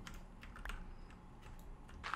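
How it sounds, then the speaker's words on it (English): Someone types on a new computer keyboard, quiet scattered key clicks at an irregular pace, faint beneath a low background hum. "Oh, this new keyboard is so great."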